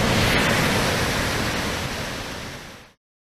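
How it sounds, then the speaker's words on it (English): A waterfall in Waterfall Country rushes with a loud, steady broadband roar heard up close, fading slightly before cutting off abruptly, with no voices. "We're at the waterfalls."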